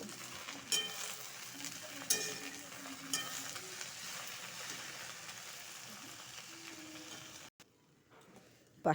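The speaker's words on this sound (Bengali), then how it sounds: "শাকটা ভাজা হয়ে গেছে একদম করকরা করবো না" Leafy greens (saag) fry in a pan with a steady, close sizzle and occasional stirring clicks, ending in a sudden drop to near quiet.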